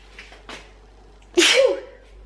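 One loud, close sneeze bursts out after a couple of soft breaths, sharp and sudden with a short airy tail.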